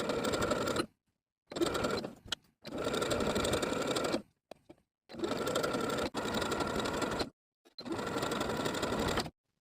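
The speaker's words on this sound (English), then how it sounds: "I'm going to edge stitch close to the inner edge of the binding all the way around the neckline." Sewing machine edge stitching the binding around a dress neckline, running in several steady bursts with short silent pauses between them, close and clear.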